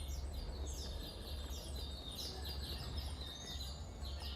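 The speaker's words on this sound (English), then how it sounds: "Why do I hear birds?" Soft, steady chirping and tweeting of birds from the Epic Mickey Rebrushed video game, with many small calls overlapping above a constant low hum, quiet and continuous with no talking.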